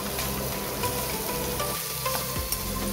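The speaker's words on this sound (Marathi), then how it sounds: "हळद चांगलं तेलावर परतून घ्यायचं आहे आपण" Finely chopped onions, asafoetida and turmeric sautéing in oil for raw jackfruit bhaji, a steady close sizzle with soft stirring noises and a low rumble underneath, no talking.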